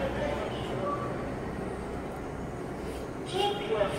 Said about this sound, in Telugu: సో ఇది ఢిల్లీ మెట్రో,